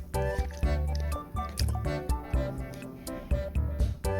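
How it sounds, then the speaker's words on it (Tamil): Chicken pieces are mixed by hand into masala for restaurant-style chicken 65, making wet, squelching squishes and soft slaps in an uneven rhythm, close by and over a tonal background. "சிக்கன் போட்டு மிக்ஸ் பண்ணணும்."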